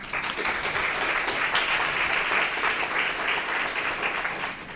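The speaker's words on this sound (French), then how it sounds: "moi j'exige que vous applaudissiez très fort Roger" An audience at a school eloquence contest applauds a speaker, steady sustained clapping from many hands in a hall, fairly loud and even, fading slightly at the end.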